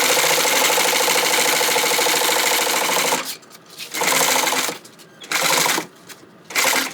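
A sewing machine stitches a strap around a tight-radius bottom corner, running in a loud steady rapid chatter for about three seconds, then in three short bursts separated by pauses.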